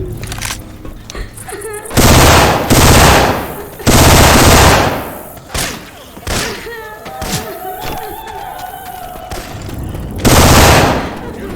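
Left 4 Dead 2 gameplay with Syphon Filter weapon sound effects: loud bursts of automatic fire and heavy shots come in separate blasts, with quieter game ambience and voices between them.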